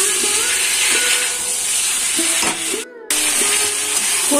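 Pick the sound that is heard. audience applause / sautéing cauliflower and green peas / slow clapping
sautéing cauliflower and green peas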